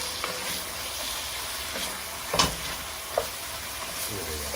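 Turmeric powder tossed into a hot pan, frying with a steady broadband sizzle and a few brief louder scrapes and rattles of stirring at moderate loudness, with no voices.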